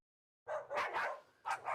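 A dog barks in a short burst of several loud, close yaps, alone with no talk around them.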